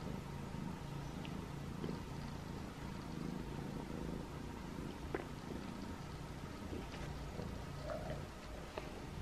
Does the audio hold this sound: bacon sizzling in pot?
no